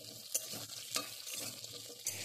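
Potatoes, carrot and pumpkin stir-fry in hot oil, a continuous sizzle broken by a few sharp scrapes and clicks of a spatula against the pan, close up.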